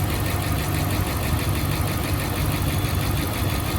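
A Dodge Ram Hemi engine idles with a bad lifter, giving a steady mechanical rumble with a rapid, even ticking running through it, close and continuous with no speech.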